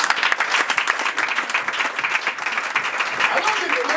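A church congregation at a Pentecost service in Gabon applauds steadily, with dense continuous clapping and crowd noise filling the space at full level throughout.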